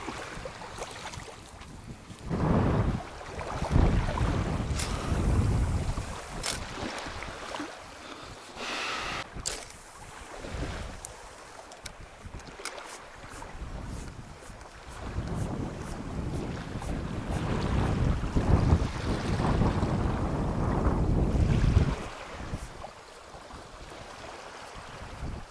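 Kazanka 5M aluminium motorboat running on the Irtysh river, a steady engine drone with water rush and heavy wind buffeting on the microphone, swelling and easing throughout.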